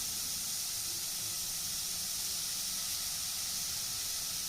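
Curry leaves sizzling in a hot pan for a Kerala-style kadala (chickpea) curry, a steady, fairly loud broadband hiss and crackle that holds evenly throughout with no talk.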